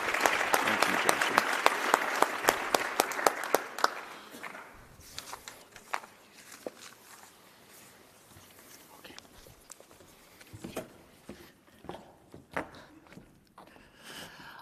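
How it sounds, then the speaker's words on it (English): Audience applause for a conference plenary panel, a dense burst of clapping for about four seconds that fades into scattered claps and light room noise. "one more round of applause for our panel"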